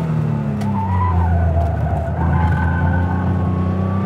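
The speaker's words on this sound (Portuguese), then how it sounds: "Saímos de traseira aqui, Vicente!" A 1985 Porsche 911 Carrera skids with its rear sliding out on a fast lap, tires squealing in long wavering tones over a steady engine drone, loud and close for several seconds without talk.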